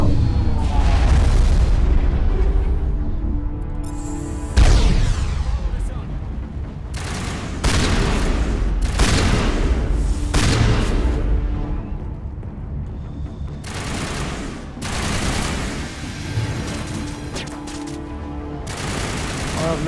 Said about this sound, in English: This is quite a powerful shotgun, to be fair.